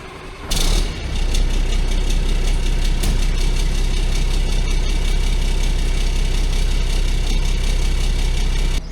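A Mack crane truck's diesel engine cranks and catches with a sudden loud burst, then settles into a steady, heavy, rumbling idle close by, with no talking.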